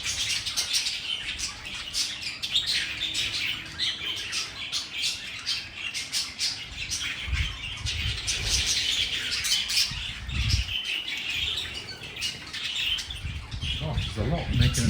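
Budgies in a museum aviary squawking and chirping continuously, many birds calling at once with bursts of wing flapping, loud and busy, with occasional low rumbles underneath.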